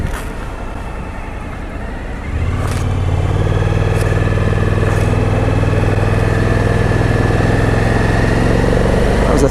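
A motorcycle carrying a passenger and luggage pulls away in third gear, the engine note rising suddenly into a steady, strong drone that holds to the end, with a rider's voice over it.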